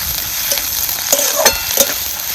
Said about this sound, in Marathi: आता कांदा मात्र आपल्याला चांगला भाजायचा, चांगला रंग बदलतो